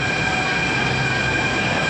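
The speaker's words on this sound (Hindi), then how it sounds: "अभी तो मेट्रो आई है, थोड़ी बहुत देर तो रुकेगी" A Delhi metro train rolls into a station with a loud, steady roar and high metallic wheel squeal, close and continuous throughout.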